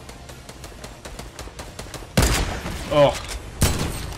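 An AK assault rifle firing in Fortnite, a rapid string of fairly soft shots followed by a few louder bursts, with a brief voice exclamation partway through.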